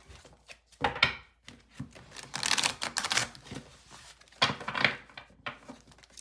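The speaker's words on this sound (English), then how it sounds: "let me shuffle that deck" A deck of tarot cards is shuffled in quick riffling bursts, crisp papery flutters and taps arriving in several clusters separated by short pauses, close and fairly clear with no talk.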